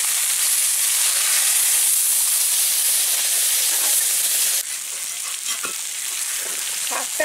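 Vegetables frying in a pan for a Bengali village lunch, a steady broadband sizzle and hiss with occasional stirring scrapes, then water added so the sizzle drops and turns to a softer bubbling steam, close and alone without talk.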